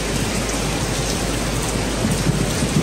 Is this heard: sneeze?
no